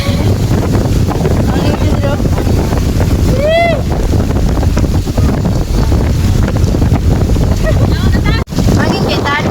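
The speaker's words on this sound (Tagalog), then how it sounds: "Hangin jud kaayo, murag naami sa Boracay." Strong gusting wind buffets the microphone beside the sea, with surf rumbling underneath and a brief voice partway through.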